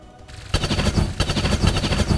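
Sustained rapid gunfire rattles loudly and continuously after a brief quiet lead-in, as shots are fired at a turret in the video game XCOM 2.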